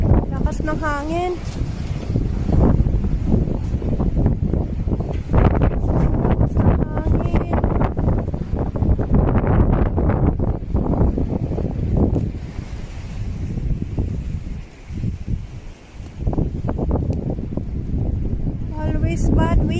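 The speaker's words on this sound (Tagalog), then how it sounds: "Ang lakas ng hangin." Strong stormy wind in northern Norway roars and buffets the microphone continuously, with a person talking over it.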